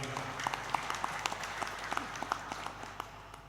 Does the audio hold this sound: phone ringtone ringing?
no